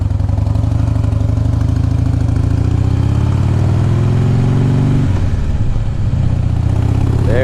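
A 2005 Harley Davidson Heritage Softail motorcycle engine runs loud and close, holding a steady throbbing idle before a brief dip and change in tone around a gear shift, then settling back into its rumble.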